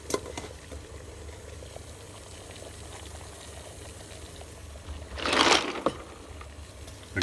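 Water bubbles at a steady boil, a continuous low gurgling simmer with a louder bubbling surge near the end.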